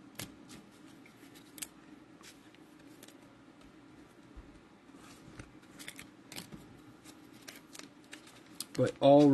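Baseball trading cards from Topps Series 1 hanger boxes are handled and slid into sleeves and top loaders, giving soft close-up rustles and plastic scrapes over a quiet background, ending in a brief louder burst.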